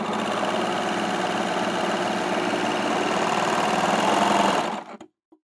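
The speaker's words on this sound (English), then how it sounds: "I'm just going to pop that under the foot and sew." A Baby Lock Victory overlocker sewing cotton stretchy jersey, running as a fast, steady mechanical whir with a rapid stitching rhythm for nearly five seconds before it abruptly stops.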